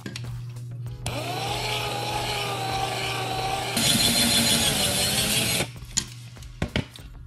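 Power drill whirring steadily close by as it bores in, motor pitch rising and louder partway through, then cutting off abruptly, followed by a few knocks.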